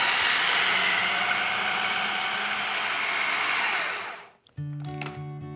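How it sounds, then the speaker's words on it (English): A food processor whirs steadily at full speed, blending a chipotle goat cheese spread until smooth, then winds down and stops, followed by a brief clatter. "I'm gonna add these into my food processor as well."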